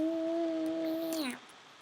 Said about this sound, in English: Cat.